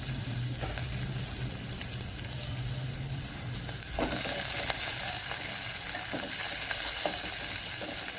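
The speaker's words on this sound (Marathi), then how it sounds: "त्याच्यामध्येच आपण लसूणही भाजायला टाकणार आहे आता।" Garlic frying in a pan for a green pigeon pea pod curry: a steady, close broadband sizzle with occasional sharp crackles and pops, growing slightly louder midway, with no voices.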